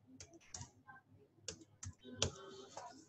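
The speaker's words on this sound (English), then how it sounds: "I have typed my password." Keys click on a computer keyboard as a password is typed, a quick irregular run of about eight sharp taps close by in a quiet room.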